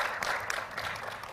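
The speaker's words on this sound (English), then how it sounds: "Maybe we should clap for her, that lady there." An audience claps for a woman present in the room during a live interview event, a short steady burst of applause filling the whole moment without talk over it.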